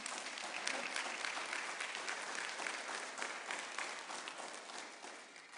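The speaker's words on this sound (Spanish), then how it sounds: "Si va a aplaudir, apláudele fuerte, hermano," A church congregation claps loudly and steadily through the service, a dense, continuous wash of many hands that holds for several seconds before easing slightly at the end.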